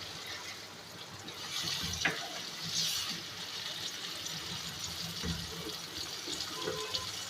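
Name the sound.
a cup of water poured into cooking chickpea masala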